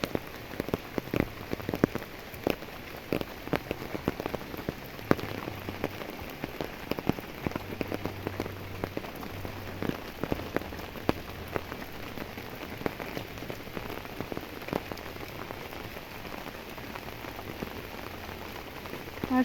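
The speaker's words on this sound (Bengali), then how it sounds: "সারা দিনটাই আজকে বৃষ্টি আর বৃষ্টি" Steady rain falls through cold winter weather, a dense, even patter of drops on surfaces that runs without a break, with a faint low hum underneath and no voices.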